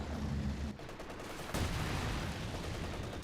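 MG incendiary barrage in a Company of Heroes 2 battle: steady rattling machine-gun fire under dense combat din, fairly faint and continuous, with a sharper burst partway through and no talking.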